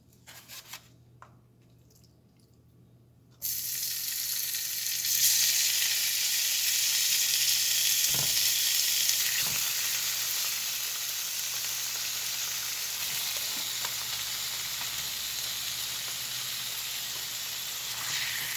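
Bite-sized chicken tenders dropped into a hot pan burst into a loud, steady sizzle that continues evenly after a quiet start, with a few faint clicks.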